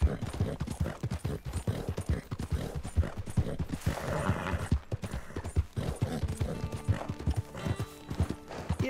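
Steady, rhythmic hoof clip-clop from a horse in Red Dead Redemption, close and continuous throughout, with a short whinny near the middle.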